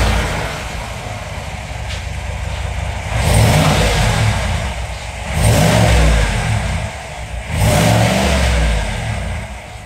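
Stock exhaust on a 2022 GMC Sierra AT4 with the 6.2 V8 revving in three separate bursts over a steady idle, each rev swelling loud and falling back, close by with no talk.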